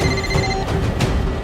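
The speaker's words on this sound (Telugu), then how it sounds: "ఫోన్" A telephone rings in a Telugu crime film scene, its electronic ringtone tones sounding over a dense, noisy background.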